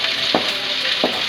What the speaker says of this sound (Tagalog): Ayan, bawang.